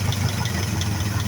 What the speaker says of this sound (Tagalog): Itong high tension wire, hugutin na ito mga boss kung mag-iba yung tunog ng makina